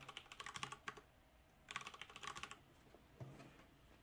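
Someone types a password on a computer keyboard while setting up Xubuntu in VirtualBox. The keystrokes are soft and close, falling in three quick bursts separated by short pauses.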